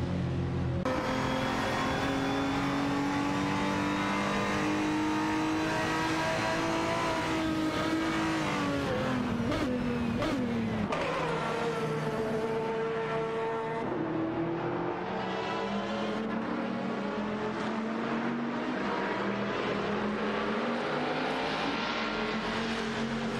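Race cars, Koenigseggs among them, compete in a racing video game, their engines holding a continuous loud high-pitched whine that rises and falls through gear changes and revving, with brief tire noise and no talking.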